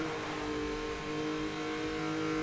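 A car engine in Need for Speed Most Wanted drones steadily at a sustained rev, a constant loud tonal hum with no pauses and no voices.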